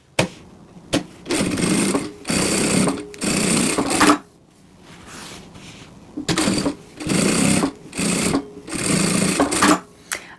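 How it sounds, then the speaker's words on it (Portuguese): A sewing machine runs a safety seam around the edge of fabric in loud, steady stitching bursts of a second or two, separated by brief pauses and one longer stop midway. "fiz uma costura de segurança na volta toda para poder refilar"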